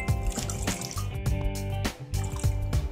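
Water splashes and runs as a clay mud face mask is rinsed off the skin, a steady wet wash heard under background music.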